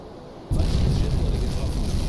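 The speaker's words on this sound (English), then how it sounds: "That was a pretty big explosion." Torpedo hit explosion in the UBOAT submarine video game: a sudden loud boom erupts after a quiet moment, then a sustained heavy rumble carries on, with no talk.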